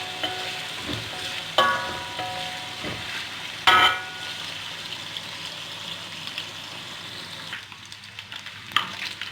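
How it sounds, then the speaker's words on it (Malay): Washed anchovies (ikan bilis) fry in hot oil until crisp, giving a soft continuous sizzle broken by a few sharp spatters and stirring clatters, with no one talking. "Jadi saya goreng ikan bilis dulu sampai garing."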